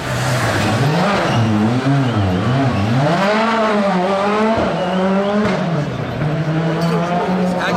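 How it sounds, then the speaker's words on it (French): A rally car on the Monte-Carlo harbour super-special stage revs hard through tight turns, engine pitch sweeping up and down continuously, with a sharp backfire crack about two-thirds through, loud and close. "Il y a eu une petite flamme là, un petit backfire."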